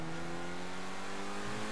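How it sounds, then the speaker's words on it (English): A rear-engined car drives on dirt in GTA 5, its engine a steady, continuous drone with slight pitch changes, close and loud, with no talking. "This thing is almost driving like a rally."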